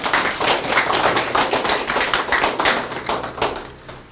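A gathering at an art exhibition opening in Korea gives a round of clapping, steady and moderately loud with distinct individual claps, lasting about four seconds with no voices over it.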